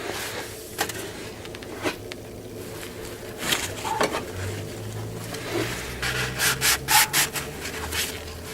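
A white napkin is scrubbed back and forth over a cleaned engine surface, giving close, irregular rubbing and scraping strokes that grow more vigorous toward the end.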